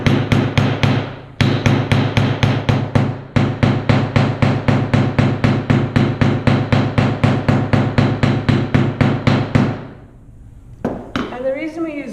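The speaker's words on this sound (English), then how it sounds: "So now we're going to hit it really hard with the rawhide mallet." A rawhide mallet strikes metal, likely brass wire, resting on a block at a jewellery bench, delivering a long run of rapid, evenly spaced loud blows with two short pauses, then a few scattered taps.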